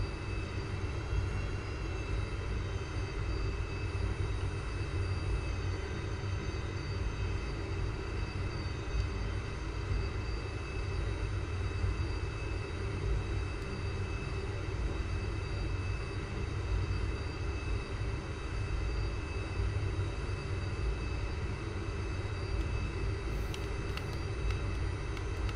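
Hawk T1 jet engine in the flight simulator X-Plane 11, just after landing: a steady, loud turbine whine and roar holding constant throughout, with tonal hums layered over a broad rumble and no speech.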